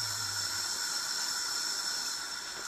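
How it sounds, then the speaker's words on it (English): Rice bubbles under a lid in a pot on the stove with the heat set high, giving a steady, close hiss of steam with no talking. "the rice is bubbling away, and I've got the lid on"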